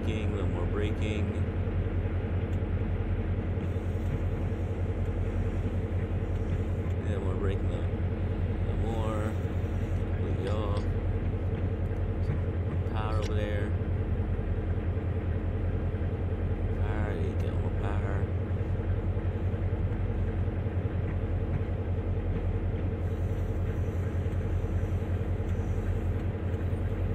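An ACS-64 electric locomotive in Train Sim World 2020 brakes with a constant, heavy low rumble and shaking drone that stays steady throughout, while a voice talks over it now and then.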